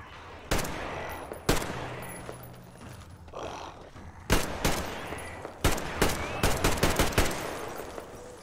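Gunfire from the Metro Exodus video game: a string of sharp, loud single shots, scattered irregularly at first and then landing in a rapid cluster near the end, set over a low rumbling game backdrop with no talk.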